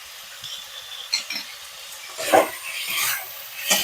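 Chicken being stirred and fried in a pan over medium heat for a spinach hariyali chicken, faint crackling broken by a few scraping stirs that swell and fade.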